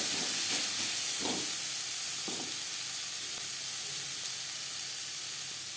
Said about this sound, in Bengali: মশলার সাথে টমেটো বেশ ভালো করে মিক্স করে দেবো।